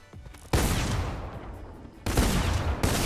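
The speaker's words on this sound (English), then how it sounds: "is babe using a shotgun?" Shotgun gunfire in a video game: heavy blasts break in suddenly, one around half a second in and another near two seconds, each followed by a long loud roar of combat noise, with a further hit near the end.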